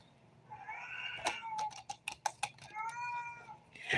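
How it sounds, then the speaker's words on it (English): Two cats meow intensely and in turn, with drawn-out, wavering yowls close by. A run of quick clicking taps sits between the calls, and nobody talks. "Two of my cats are meowing intensely."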